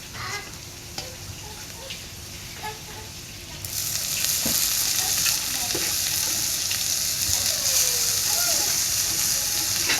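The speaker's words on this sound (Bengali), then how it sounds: "পেঁয়াজটা আমি এর চেয়ে আর বেশি ভাজবো না, এখন আমি শাক দিয়ে দিব" Kolai greens land in a pan of frying onions for a Bangladeshi stir-fry, and a quiet sizzle swells suddenly into a loud, dense hiss that holds steady, with a few soft clinks of stirring.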